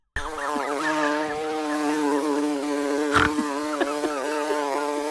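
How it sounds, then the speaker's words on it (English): A bee buzzes steadily close to a dog, a loud continuous drone with wavering pitch that runs the whole time, with a brief sharper burst partway through. "That dog definitely knows that bee stings hurt."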